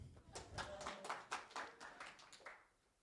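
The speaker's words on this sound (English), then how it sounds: "Clap for me then." A small audience claps at a live demo-day stage event in Chiang Mai, producing a short burst of scattered, uneven hand claps that thins out and fades within a few seconds.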